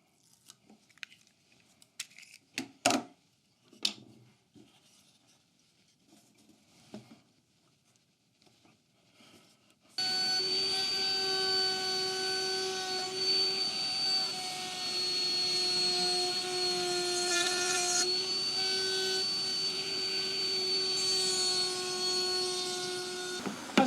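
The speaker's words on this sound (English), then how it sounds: "I'm going to be using a tracing bit on my router to trace out the shape of" A router fitted with a tracing bit cuts along a wooden shape for a bed night table shelf, starting abruptly as a loud, sustained high whine after some scattered handling knocks and quiet shuffling.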